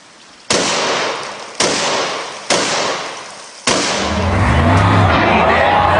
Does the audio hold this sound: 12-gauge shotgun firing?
yes